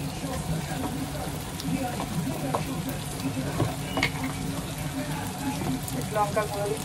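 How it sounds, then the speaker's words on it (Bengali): Chicken frying in a pan, a steady crackling sizzle with stirring scrapes and clatter close by, a voice faintly present underneath. "ওখানে চিকেন দিয়ে আগে ভালো করে একটু কষে নিচ্ছি"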